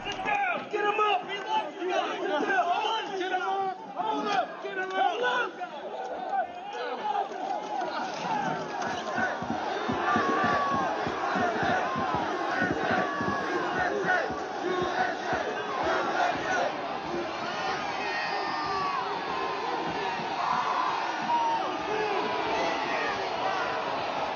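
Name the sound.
crowd of January 6th rioters shouting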